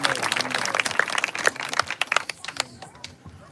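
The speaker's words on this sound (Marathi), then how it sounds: "दादांच्या विचारासाठी पण टाळ्या वाजून" A crowd claps for Dada at a Mahanubhav padyatra gathering in Digras, with dense, brisk applause that gradually thins into scattered claps, mixed with some voices.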